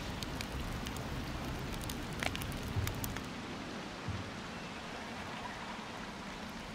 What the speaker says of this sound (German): Dieser Regen ist stark, hart und unerbittlich.